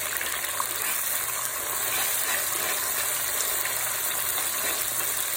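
Diced fresh tomato sizzles in hot oil, a dense, steady hiss and crackle of frying, close and fairly loud, with no voices.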